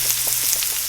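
Butter melting with garlic in a pan gives a steady, close sizzle with soft crackling pops throughout and no talking.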